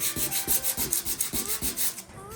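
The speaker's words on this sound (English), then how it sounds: "So I'm just going to give it a little bit of a sand." Dried wood filler on a piece of thrift-store furniture being hand sanded in short, rhythmic back-and-forth strokes, about six close rasping passes in quick succession with no talking.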